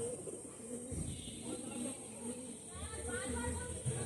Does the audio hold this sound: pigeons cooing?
yes